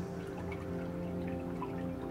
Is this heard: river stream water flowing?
yes